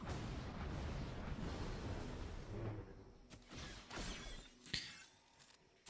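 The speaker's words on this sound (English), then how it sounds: "can we get a nice big execute over here and throw some thermal detonators?" Thermal detonators go off in Star Wars: Galaxy of Heroes, a dense crashing wash of game explosions that thins out into several separate sharp blasts and cracks, loud and close, with no talk.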